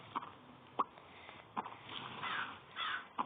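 Crow cawing inside the Pumpkin Panic horror video game, a few short harsh calls spaced apart over a low, dark ambient background, fairly quiet.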